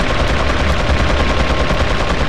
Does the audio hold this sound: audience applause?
no